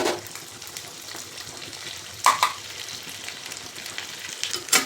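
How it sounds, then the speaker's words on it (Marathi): Ginger garlic paste sautés in a pan while cooking veg dum biryani, a steady sizzle with a few louder sputtering bursts and stirring scrapes, no voices present. "ते दही टाकण्या अगोदर आलं लसूण पेस्ट परतून घ्यायला हवी होती."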